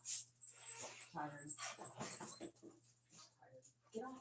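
A small dog whimpering and whining indoors, soft intermittent whines mixed with a person talking nearby over a steady low hum.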